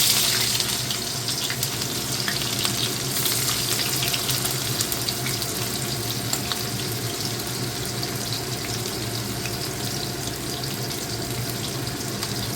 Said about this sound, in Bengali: যেই ফোড়নটা একটু হয়ে গেল, তারপর আমরা পেঁয়াজ দিলাম।